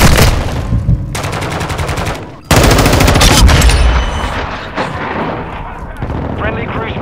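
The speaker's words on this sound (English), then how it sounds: "Friendly cruise missile approaching target" A cruise missile strike lands amid a Call of Duty MW2 multiplayer match: loud bursts of rapid automatic gunfire with sharp cutoffs, then a heavy booming impact and rumbling explosions fading into scattered shots.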